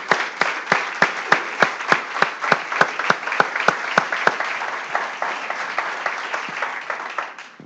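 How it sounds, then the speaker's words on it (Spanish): A church congregation claps steadily and loudly, the claps blending into a continuous wash of applause that carries on for several seconds before fading slightly. "Démosle un aplauso al Señor, hermano."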